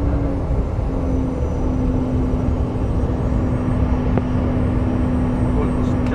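A private jet taking off, heard as a loud, steady engine roar with a sustained droning hum running unbroken through the whole stretch.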